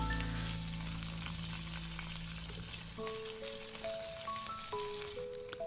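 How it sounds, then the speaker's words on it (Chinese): Scallions and ginger stir-fry over low heat in a little peanut oil in a wok, giving a steady close sizzle with a soft wash of frying crackle and an occasional light scrape, no talk. "起锅加入少许的花生油，把提前准备好的葱姜放在锅中，开小火煸炒"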